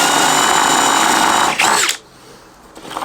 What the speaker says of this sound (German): und dann gebohrt